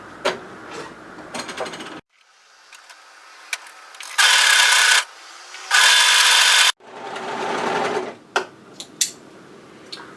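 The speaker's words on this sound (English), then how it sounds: "sew the underarm sleeve edge also. Overlock that together." An overlocker sews the underarm sleeve edge of a dress in three loud, steady runs of a few seconds each, close up. Quieter handling clicks and rustles of fabric fall before and between the runs.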